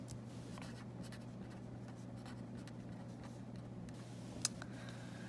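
A pen or pencil writes chemical names by hand on paper, making faint, close scratchy strokes in short irregular runs over a low steady hum, with one sharp little tap near the end and no talking.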